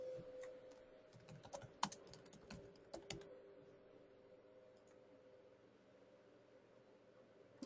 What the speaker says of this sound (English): You do need to type it correctly.